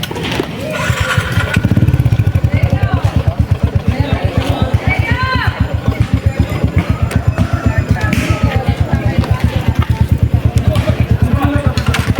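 A motorcycle engine drones steadily and close by throughout, its rapid regular pulsing continuous, with people talking over it.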